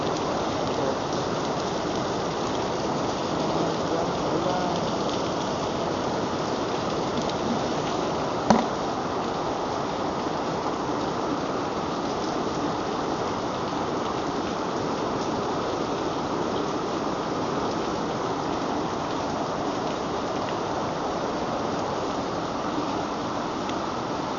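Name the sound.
heavy rain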